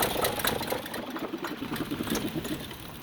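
A car engine idles with a fast, steady ticking rhythm, moderately close and continuous, with no one speaking.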